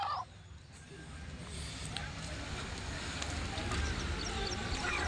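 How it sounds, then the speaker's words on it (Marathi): Poultry calls amid a busy outdoor crowd at a weekly village market, with constant chatter and market noise largely covering the clucking of free-range desi chickens. "काही तर कोंबड्या पण आहेत"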